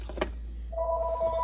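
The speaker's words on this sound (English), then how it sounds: "And that's the phone." A telephone rings indoors with a short steady electronic tone that starts after a brief knock, moderately loud over a low background hum.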